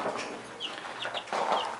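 Two-week-old backyard chicks cluck and cheep in a shed coop fitted with a feeder, a waterer and a perching stick, a steady near chatter of small calls with a louder burst toward the end.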